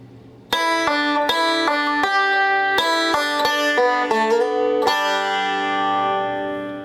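A banjo picks a brisk run of bright, ringing notes, mostly on the first string with open strings, played clearly and alone with the last note left to ring out.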